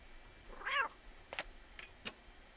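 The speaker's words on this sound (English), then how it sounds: "Shall I go and tell Mason I fixed your weird cat?" Mechanical cat in the video game Nancy Drew: The Deadly Device, a single short meow followed by a few brief clicks and chirps, fairly faint over a quiet background.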